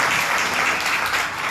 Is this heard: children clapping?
yes